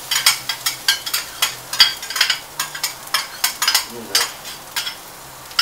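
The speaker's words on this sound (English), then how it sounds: "Go ahead and throw in my onions." Onions tossed into a hot pan while pancit cooks, giving a steady sizzle with repeated scraping stirs in a quick, uneven rhythm, close and fairly loud, with a brief spoken phrase.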